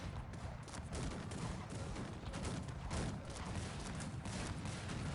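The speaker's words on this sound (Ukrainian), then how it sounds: "Давайте зарядимо по, по ньому з гармат." Cannon fire in the strategy game Cossacks 3, dense overlapping booms and crackling volleys in a continuous battle din, loud and without pause throughout.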